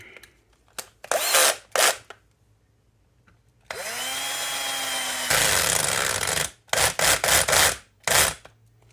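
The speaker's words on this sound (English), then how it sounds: "we'll go with the drill method" A power drill whirs in short, loud bursts, then runs in a longer sustained spin that rises in pitch before more quick pulses while rebuilding a Redcat Blackout RC car.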